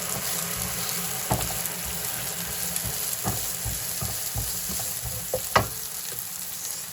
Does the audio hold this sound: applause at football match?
no